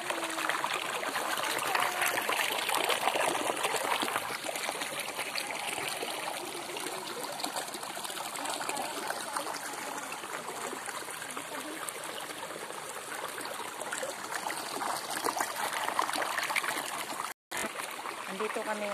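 Clear stream water flows and trickles steadily over rocks on the way to Amaraq, a continuous broadband rush that stays close and fairly even throughout, with a brief dropout near the end.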